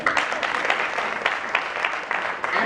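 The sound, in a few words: audience applause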